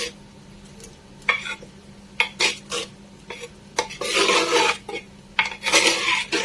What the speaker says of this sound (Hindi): अब मैं इसी में इसे एक बार मिक्स कर देती हूँ।